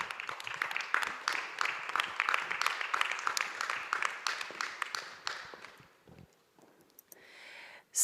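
An audience claps to welcome panelists onto a stage at a human rights film forum, a dense steady patter of many hands that thins out and fades near the end, with a faint noise at the close.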